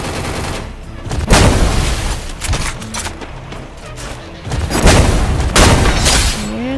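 Loud, dense gunfire in a PUBG-style shooter game: repeated sharp bursts and booming shots cluster across the stretch, some rapid and overlapping, with occasional chatter and background noise between volleys.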